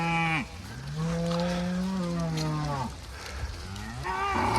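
Dry cows and heifers moo loudly in long drawn-out calls as they are brought into the shed at the back of an old milking parlour. Several overlapping calls are heard up close, with no talk.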